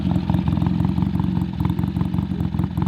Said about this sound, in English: Ah, the sweet sounds of a BSA.